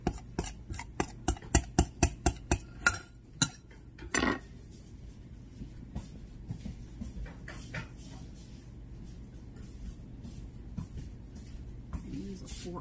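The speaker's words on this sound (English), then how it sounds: "Use a fork here. I like to use a fork better. Mashes it in there a little bit better." Metal fork clinking rapidly against a bowl while mashing biscuit dough ingredients, a quick run of sharp taps that gives way to softer scraping, with a person talking.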